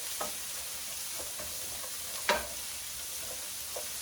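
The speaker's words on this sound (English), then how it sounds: "And in the pan top, so the onions are popping." Chopped onions and celery sizzle steadily in a pan for a beef stew with potatoes, a constant frying hiss broken by a few soft stirring clicks and one sharper pop partway through.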